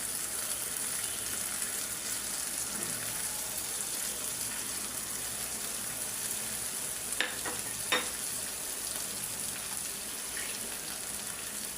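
Small fish sizzle in a pan with garlic paste, a steady moderate frying hiss broken by a few sharp clicks and knocks of a utensil; nobody speaks.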